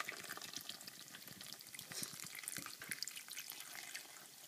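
Beer is poured from a quart can over bratwursts in a hot pan on a low fire, giving a soft, steady hiss and bubbling sizzle with faint crackle throughout, fairly quiet and with no talking.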